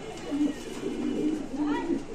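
A pigeon being shown for sale gives soft, low, repeated coos close by. The calls are quiet, with faint background noise.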